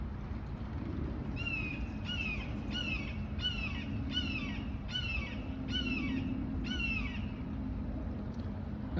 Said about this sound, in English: That's a large bird, ain't it? It's very close by.